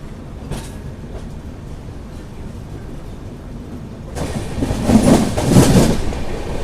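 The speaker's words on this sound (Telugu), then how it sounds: "సో ఇప్పుడు మనం వచ్చేసి ఏలూరు రైల్వే స్టేషన్ స్కిప్ అయితే కొడుతున్నాము." Riding aboard the Secunderabad–Shalimar weekly AC express as it runs through Eluru station, a steady rail rumble swells into louder clattering wheel beats, with rhythmic clacks growing near the end.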